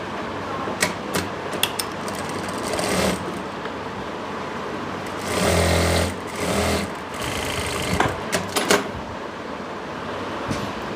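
A sewing machine stitches pleats into a palazzo pant, a steady close whir under the quiet room, with louder bursts of running around the middle and brief clicks and stops toward the end.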